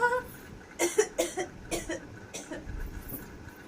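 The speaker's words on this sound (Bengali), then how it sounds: "খুব কাশি হয়েছে জানো মা" One person coughs close up in a run of several harsh, uneven bursts, some single and some clustered, over a quiet background.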